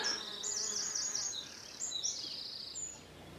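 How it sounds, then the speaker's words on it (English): High, thin buzzing of a yellow-tailed bee hovering close by its nest, steady with small swells in pitch, alone against quiet outdoor background in rural France. "Just in there, look, there's one of the bees."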